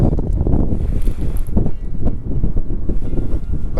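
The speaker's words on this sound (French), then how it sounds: "Il y a beaucoup de vent ici" Strong wind buffets the microphone at an outdoor sacred site in Sedona, a loud, continuous rumbling roar with gusty bursts and faint scuffs beneath.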